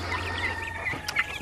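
Young chicks just moved into new, roomier housing cluck and peep softly and repeatedly, close by, with a few brighter chirps near the end and a low hum underneath.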